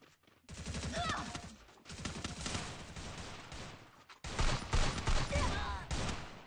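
Gunfire in a shooting video game, with dense rapid automatic bursts in three long volleys separated by brief gaps, loud and close.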